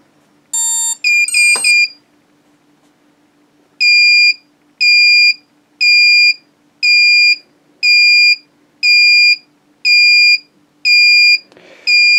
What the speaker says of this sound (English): we've got some sort of constant beeping